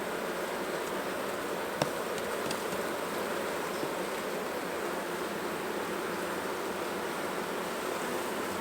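Honey bees buzzing steadily during a beehive inspection, a dense, continuous hum from many bees close by, with one brief faint click and no talking.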